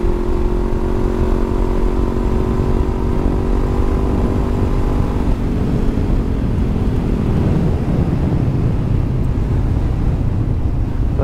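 Honda CB500F motorcycle engine revving high through its exhaust silencer, a loud steady drone with rising then shifting harmonics, heard close amid constant wind rush.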